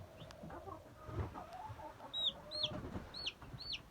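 Baby meat chicks cheep in a chicken coop with a few high, quick peeps near the end over faint, low background shuffling.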